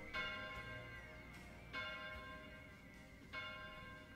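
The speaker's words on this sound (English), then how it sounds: "I'm still on the offbeat with the bell." A bell tolls three times at steady, widely spaced intervals in a song, each strike ringing out with a long, bright decay over a quiet musical bed.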